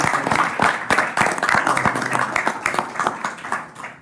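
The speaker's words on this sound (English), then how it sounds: "Mr. Burrell, if you will just stand up so we can give you a round of applause" Audience at a Commonwealth Transportation Board meeting giving a round of applause, close, dense clapping from a roomful of people that gradually thins and fades out at the end.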